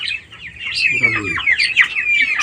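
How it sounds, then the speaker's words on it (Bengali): Chickens out of their coop in the dark chirp and cluck in quick overlapping calls, close and fairly loud, with a low voice briefly underneath. "দেখেন সবগুলা বের হয়ে চলে আসছে মুরগিগুলা"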